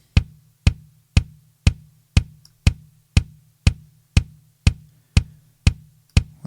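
A metal kick drum hits with a sharp bright click boosted around the top end, thirteen evenly spaced punchy strikes in a steady beat, close and isolated with short decays between hits.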